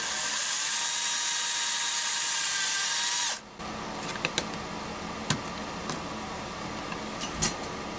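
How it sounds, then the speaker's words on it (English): A power drill whines steadily for a few seconds drilling a pilot hole in a Sure AA-AB32971 amplifier part, then stops abruptly, followed by scattered clicks and light tool knocks. "We are drilling a hole to guide"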